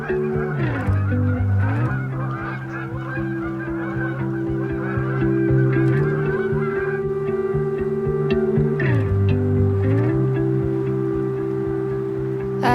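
Loud honking geese call repeatedly and steadily outdoors beside rushing water, their layered calls continuous over a constant background rush.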